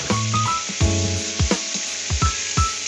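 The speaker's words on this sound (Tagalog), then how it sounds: "Ang una kong ginagawa ay ginigisa ko muna ang ating sahog" Ingredients for pancit bihon sauté in a hot pan with a close, bright sizzle, broken by several quick stirring scrapes in an irregular rhythm, with no voices.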